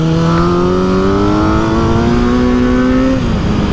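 A 2021 Kawasaki Z900 motorcycle ridden with a pillion, its engine loud and close, pitch climbing steadily under acceleration before dropping sharply at a gear change.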